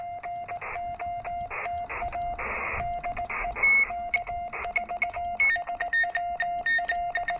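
Morse code CW signal received on a Yaesu FT-817ND amateur radio with no CW filter, a steady tone keyed in dots and dashes over broad hissing band noise, several overlapping signals audible at once.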